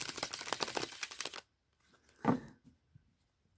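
Tarot cards are shuffled close up in a quick flurry of papery riffling clicks for about a second and a half. A near-silent pause follows, broken by one soft rustle.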